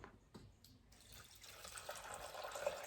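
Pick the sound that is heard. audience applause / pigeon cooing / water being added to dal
water being added to dal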